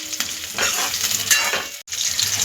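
Finely chopped onion sautés in hot oil in a wok, giving a loud, close, continuous sizzle with stirring scrapes that swell and ease, broken by one brief gap, with no voices.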